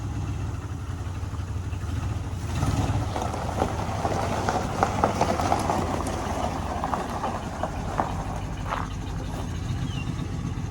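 A 1984 Jeep Wagoneer engine runs at a steady idle, a continuous loud rumble with mechanical clatter throughout, close by and without much change in pitch.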